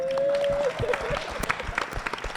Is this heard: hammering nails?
no